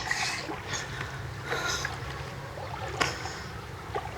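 Small boat moving through floodwater in a flooded village during heavy rain, with a steady low watery rumble and splashing throughout and brief sharper splashes, close and moderately loud, with no talking.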